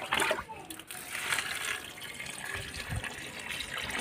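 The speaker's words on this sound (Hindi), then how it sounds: "अब इसमें बारी है पानी डालने की" Water poured from a container into a bottle holding cow dung for a small homemade biogas setup, an uneven splashing, gurgling flow heard close up, with someone talking over it.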